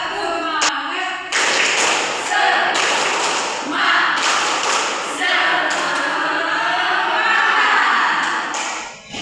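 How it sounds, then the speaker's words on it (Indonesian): A classroom of children claps a 'tepuk semangat' ice-breaking rhythm at the start of a lesson. Loud group claps come in rhythmic bursts mixed with shouted chanting voices, and the sound is sustained for several seconds. "Ibu ajak semua anak-anak Ibu membuat ice breaking tepuk semangat ya"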